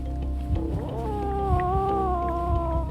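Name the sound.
cat growling at badger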